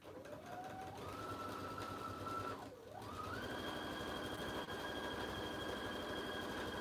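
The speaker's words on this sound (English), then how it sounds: "So this side we sew halfway up." A sewing machine stitches bag fabric in continuous whirring runs, its motor pitch rising as it speeds up, dipping briefly to a pause, then holding a fast steady hum close by.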